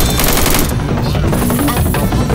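Gunfire in the Left 4 Dead 2 video game, a dense, loud burst of shots blending into continuous in-game combat noise and chaotic effects, with no clear gaps between reports.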